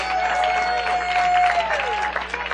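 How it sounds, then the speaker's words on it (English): A church congregation claps hands in praise during a sermon, a steady burst of applause mixed with crowd voices, with a sustained organ or keyboard tone underneath. "Give the Lord a hand clap of praise."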